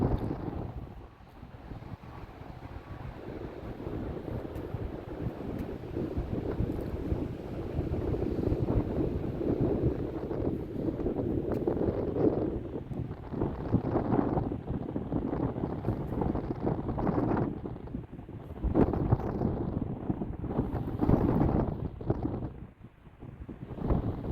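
Strong wind buffets the microphone on Polzeath beach in Cornwall, a steady low roar with gusty surges and dips throughout, no voices over it.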